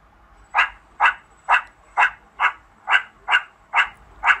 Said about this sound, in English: A meerkat makes this sound.